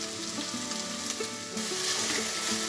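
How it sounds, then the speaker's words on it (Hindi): Mashed paneer, about 200 grams, frying in a pan, a loud dense sizzle with clattering stirring strokes that swell louder midway, close by and with no one talking. "पनीर भी थोड़ी सी फ्राई हो जानी चाहिए"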